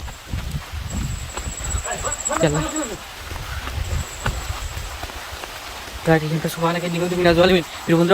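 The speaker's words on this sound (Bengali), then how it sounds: "অলরেডি এখন বৃষ্টি পড়তেছে" Rain falling outdoors, a soft, steady patter on surfaces running beneath people talking throughout.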